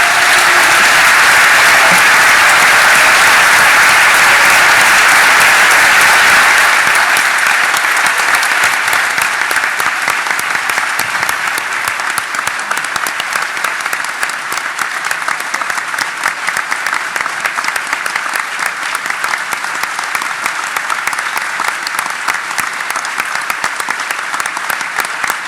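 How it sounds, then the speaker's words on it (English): A large conference audience applauding at the closing ceremony of the DEF CON 21 hacking conference, loud sustained clapping that fills the room and thins slightly but carries on for over twenty seconds. "let's give them a round of applause"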